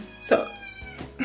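A house cat meows twice in quick succession indoors, close and clear, the second call shorter, while a person speaks briefly beside it.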